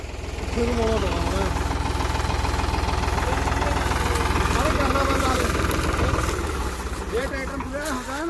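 A low, steady tractor engine idles and rumbles throughout, with voices talking over it.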